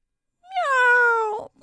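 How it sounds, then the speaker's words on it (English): A single cat lets out one long, plaintive meow, close and loud, rising and then holding before it cuts off abruptly. "And when the good cats sat beside the smoking ashes, how they cried!"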